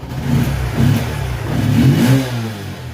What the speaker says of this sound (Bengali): তো কিকে মারছি, দেখো কিন্তু স্টার্ট হয়ে গেছে।